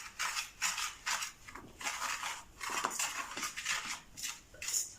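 Sausage roll filling of breadcrumbs, paprika, oregano, grated cheese and onion is mixed in a bowl, giving rhythmic scraping, clinking strokes of a utensil repeating steadily up close.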